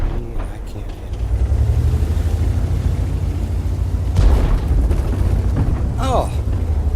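Artillery shell explosions in the World of Tanks game, a heavy low boom bursting in around four seconds and another sharp blast near six seconds, over constant engine rumble with someone talking.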